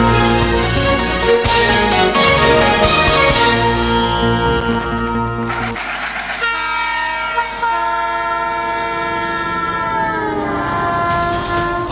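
An Indian Railways train rumbles and clatters loudly past, with a long horn blast sounding over the rolling wheels before the passing noise shifts and thins toward the end.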